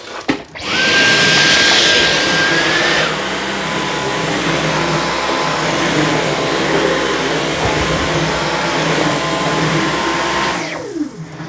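Dyson V15s Detect Submarine cordless vacuum cleaner running steadily and loudly up close, with a brief high whine as it starts, a near-constant motor roar for about ten seconds, then winding down at the end; no talking.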